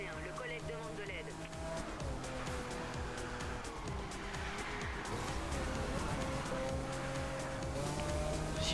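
Car chase in the video game Need for Speed Rivals, with steady engine drone, shifting whine and occasional tire squeal running continuously under radio-style talk.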